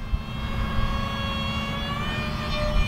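RC FPV carbon-fibre flying wing, a SonicModell 1030mm kit, with its electric motor at full throttle on a 3S battery, a loud steady high-pitched whine with a faint pitch shift as it flies past outdoors.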